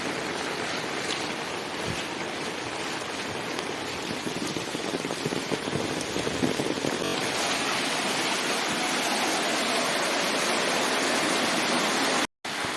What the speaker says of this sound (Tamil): இப்போ நாம் பார்த்துக்கிருக்கிறது பேட்டை நீர்வீழ்ச்சி அப்படின்னு சொல்லுவாங்க